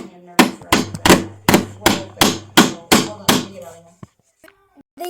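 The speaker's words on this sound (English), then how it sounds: "People said to hammer the nail instead of how you usually do it" Hammer strikes on a nail at a construction site: eight loud, evenly spaced blows close by, each with a ringing metallic tail, then a few faint knocks.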